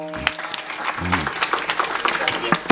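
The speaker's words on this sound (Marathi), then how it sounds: "छान छान छान टाळी वाजवा जरा" An audience at a Marathi devotional kirtan performance in Indapur breaks into scattered applause, many hands clapping unevenly at moderate volume, with a voice and some background talk mixed in.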